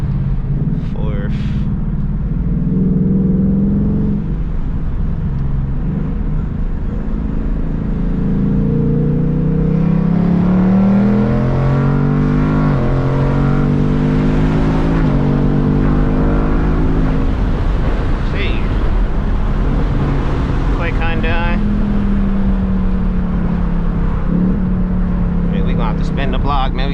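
A Ford Mustang GT engine accelerating hard through traffic, a loud, close engine roar whose pitch climbs and drops through several gear changes, with people talking over it.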